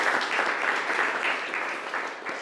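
Audience applause for the host at a thesis prize ceremony, a steady, moderately close patter of many hands clapping together, continuous and fairly even before tapering slightly.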